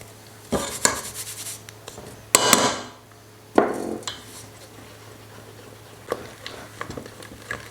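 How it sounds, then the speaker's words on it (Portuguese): Remaining dry ingredients for a homemade marble cake are tipped into the batter bowl, giving a few sharp clanks and a sliding pour, then softer scattered taps, close and without talking. "Vou acrescentar os restantes ingredientes secos."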